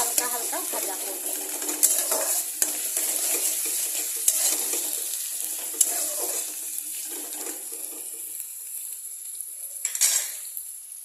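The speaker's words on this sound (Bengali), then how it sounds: "পেঁয়াজ কুচি দিয়ে আমি এটাকে একটু হালকা হালকা ভাজা করবো।" Chopped onion frying lightly in a pan for a curry, a steady broadband sizzle running throughout with occasional scrapes and clinks of a utensil stirring.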